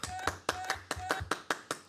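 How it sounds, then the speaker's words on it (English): A few pairs of hands clap in a slow, even rhythm of sharp, close claps, roughly four per second, for a small round of applause during a live card-break show. "Round of applause."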